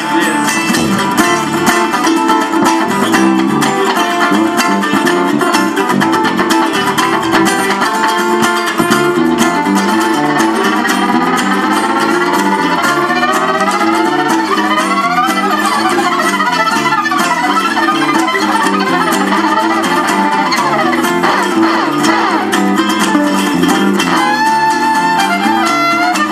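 A fiddle saws fast, sliding lines over a loud, driving band, playing continuously and densely from start to finish.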